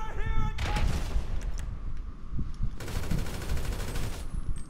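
Rapid bursts of automatic gunfire in GTA V during a Gunrunning heist to steal the Oppressor bike, loud and sustained in two volleys with a short lull between, with a voice briefly heard.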